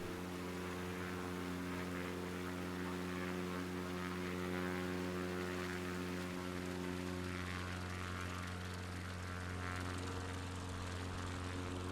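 Steady drone of a propeller aircraft engine in Flight Simulator 2024 cruising over the French Alps, a constant loud hum with a layered tonal buzz that holds unchanged throughout, no voices over it.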